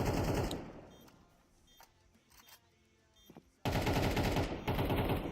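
Counter-Strike gunfire comes as rapid, loud bursts of shots at the start and again near the end, with a quieter lull of faint clicks and distant shots between them.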